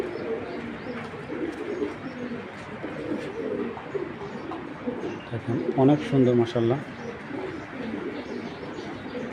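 Racer pigeons coo in soft, repeated low murmurs close by, with a brief louder bout of cooing near the middle, while someone talks over them.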